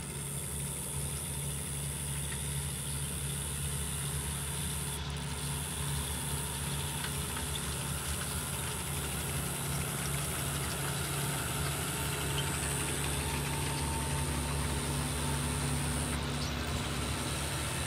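A City of Naples tractor idles at the beach, a steady low engine drone with a constant mid-range hum and faint vibration, continuous and fairly close with no talk.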